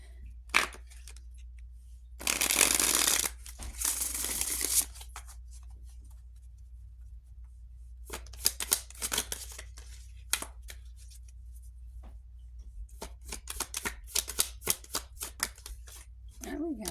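Tarot cards shuffle in two quick riffling bursts, followed by scattered light card flicks and taps, recorded close and fairly quiet.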